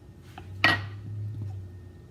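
A single bright clink of a utensil against glass while mixing ginger, garlic and honey juice, followed by a soft low hum in a quiet kitchen.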